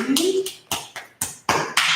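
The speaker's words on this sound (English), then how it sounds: "the left hand is going to kind of pat over the outer right shoulder, the neck" Hand patting over the outer shoulder and neck during a yoga session, a series of soft, evenly spaced pats close up, with a brief murmur at the start.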